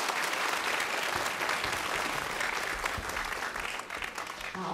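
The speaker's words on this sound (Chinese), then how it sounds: "再给他们一个掌声。" Audience clapping at a guzheng concert, dense sustained applause from a seated crowd throughout, thinning slightly near the end.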